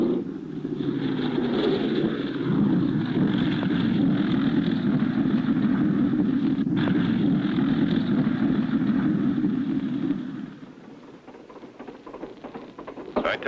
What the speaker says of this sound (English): I taxied the plane closer to the camp so we won't have so far to walk.